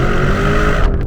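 A Lamborghini Urus launches hard in first gear from 3,000 to 4,000 RPM, with a loud, dense engine roar that fills the moment up close and continues without a break.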